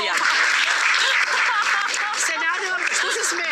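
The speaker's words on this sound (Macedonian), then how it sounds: "Еден аплауз за Маријан." Studio audience applause, dense clapping that runs continuously and fairly loud, with laughter and voices mixed in.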